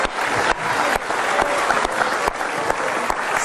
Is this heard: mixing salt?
no